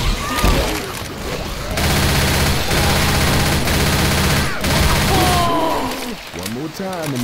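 Sustained automatic gunfire in Left 4 Dead 2: loud, dense rattling bursts that fill most of the clip, with character voices shouting over them at the start and end.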